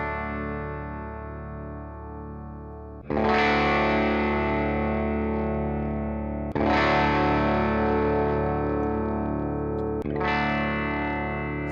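A bodiless air guitar with a Floyd Rose bridge and a 250K volume pot strums an open chord three times, each strum ringing out loud and sustained before the next, with a dense, distorted-sounding decay and no talking.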